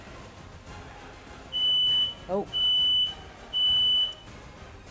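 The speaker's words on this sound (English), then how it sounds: "The fire alarm is going off." A fire alarm beeps in three long, loud, high-pitched pulses evenly spaced, with a brief spoken exclamation between them over low room noise.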